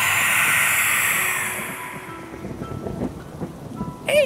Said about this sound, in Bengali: সাথে মেঘের গর্জনের প্রবল শব্দ